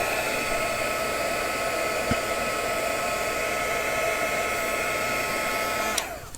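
A heat tool blows a constant loud whooshing hiss while warming plastic packaging coated with mica stain, steady throughout with a faint click near the end and no speech.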